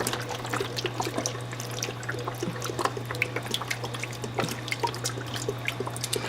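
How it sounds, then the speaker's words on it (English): Liquid from a container pours over corned beef in a pot, a continuous splashing trickle with bubbly, dribbling texture, close and steady throughout with no talking. "I'm going to take this whole container and just pour it in here with my corned beef"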